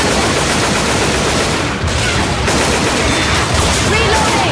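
Loud, dense gunfire from Left 4 Dead 2's Tour of Terror campaign, overlapping shots and bursts piling into a continuous barrage without letup.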